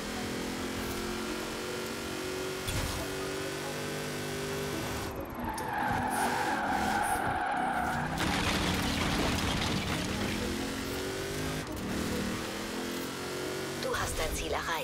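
Racing car in Forza Horizon 4 driving with a steady engine drone, breaking into a loud skid with squealing tires midway, continuing under a German-speaking voice.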